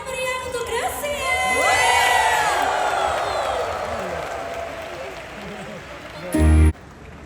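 A large crowd at a 14th anniversary concert cheers, screams and applauds for a graduation. The roar swells and holds, then fades, and an amplified voice rises over it near the end.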